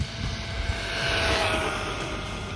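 A Jiusi WB12Pro RC car's electric motor is held at full throttle, giving a loud, sustained high-pitched whine that swells slightly in the middle as it passes.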